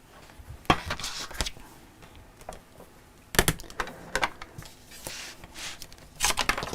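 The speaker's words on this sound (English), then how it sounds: "I'm going to keep trimming it to just make it square." Trimming a fabric square to size while sewing, with a series of sharp crisp cuts and rustles in uneven bursts, close and fairly quiet, no talk.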